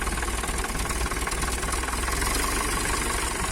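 A tractor engine runs steadily close by with a rough, knocking low rumble and constant vibration, the throttle held at a light idle throughout with no talking.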